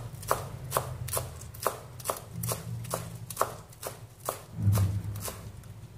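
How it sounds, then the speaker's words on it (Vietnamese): A knife chops scallions and Chinese coriander on a cutting board in rapid, evenly spaced crisp strikes, close and clear, with a soft low thud near the end. "Hành lá và mùi tàu này thì các bạn cũng thái nhỏ cho mình nhé."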